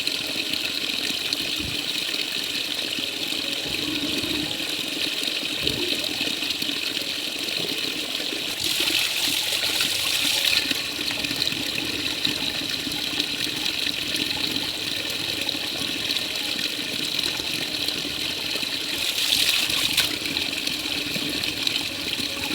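A strong flow of water gushes from a hose, a steady rushing hiss at moderate level with two brief louder surges, continuous and without talk.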